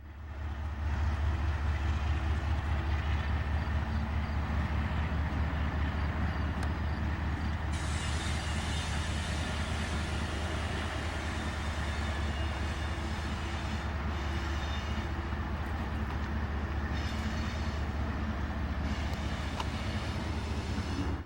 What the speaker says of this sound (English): I love train action.